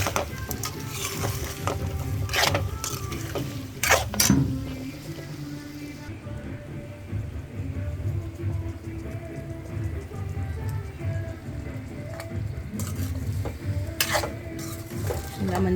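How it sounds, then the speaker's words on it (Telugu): Large potato pieces fry in a pan, stirred with repeated scraping strokes over a continuous crackling sizzle that resembles rain patter, steady and close throughout. "ఇప్పుడు ఆలుగడ్డలు వేసుకుందాము."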